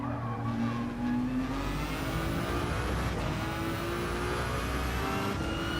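A Gr.1 prototype race car engine revs steadily in Gran Turismo 7, a continuous high-pitched engine whine with rising harmonics that holds loud and alone for several seconds.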